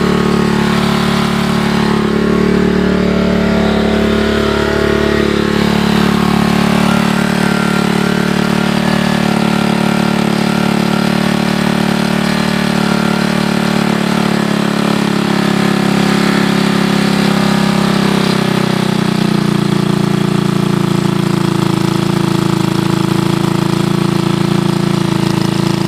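A 1983 Honda ATC200 three-wheeler's single-cylinder engine idles loudly and steadily close by, its pitch sagging slightly as the idle speed is turned down.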